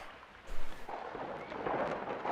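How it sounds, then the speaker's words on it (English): A thunderstorm rolls through The Universim game world, a low rumble swelling briefly and then a steady hiss of rain close by. "There's a thunderstorm."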